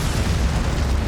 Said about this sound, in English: Then, a second explosion ripped through the site.